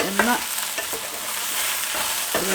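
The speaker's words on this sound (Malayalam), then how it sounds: "2 മിനിറ്റ് ഇത് നല്ല സോഫ്റ്റ് ആവണ വരെ ഒന്ന് ഇളക്കി കൊടുത്തുകൊണ്ടിരിക്കുകയാണ്" Cut okra sizzling in hot oil for bhindi masala, stirred so the frying hiss rises and settles with the spoon's movements, with several scraping strokes, close and loud with no talking.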